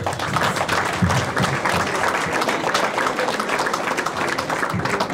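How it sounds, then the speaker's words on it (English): Sustained, dense applause from an audience at a sports awards function honoring the Southern Division champions, loud and continuous throughout. "Again, a round of applause"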